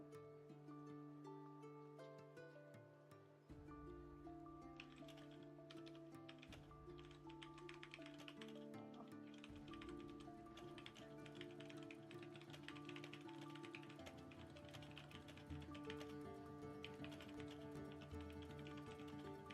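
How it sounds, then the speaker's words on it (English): Steady, rapid keyboard typing with loud clacking keys, continuous and close for the whole stretch, no voices. "It's not angry typing, it's just loud typing."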